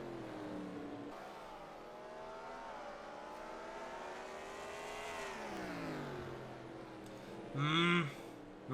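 Race car engines in a NASCAR-style racing video game, one car's high engine note rising and falling through a corner, then a brief sharp burst near the end, with a commentator talking over it.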